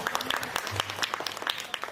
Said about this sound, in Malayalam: അതിനൊരു വലിയ കയ്യടി നടന്നു